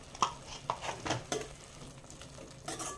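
Methi matar malai masala is stirred in a pan, a spoon scraping and tapping in irregular soft strokes with a faint sizzle underneath, quiet and close.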